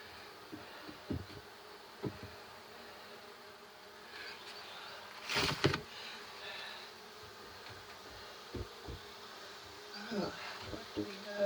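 Honeybees hum faintly during a hive inspection on a swarm, a steady low drone with occasional louder passes near the listener and scattered handling clicks.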